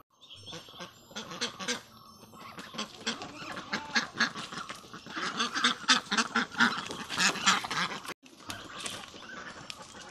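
Ducks on a farm quacking in a busy, overlapping chorus, loud and near, some honking fowl mixed in, calls continuing almost without pause.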